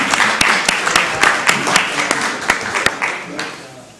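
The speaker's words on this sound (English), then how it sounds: "Let's give him a round of applause" Applause at a city council meeting in Columbus, Georgia: a room of hands clapping for an honoree, with sharp individual claps standing out in a steady wash that eases off toward the end, under some talk.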